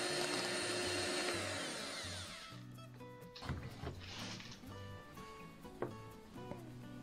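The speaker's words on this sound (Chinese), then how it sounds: "再来处理蛋黄，打发到蛋黄的颜色明显变浅" Electric mixer whipping egg yolks for a crispy egg-and-flour snack, a steady buzzing whir that cuts off partway, followed by scattered clinks and bowl knocks.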